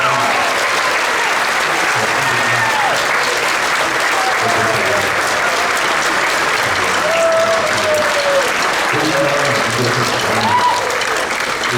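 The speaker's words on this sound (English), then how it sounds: "can we please give a big round of applause for Faith Lassler up here?" Sustained crowd applause at a middle school seventh and eighth grade band concert, dense and loud for about twelve seconds, with cheers and voices calling out over the clapping.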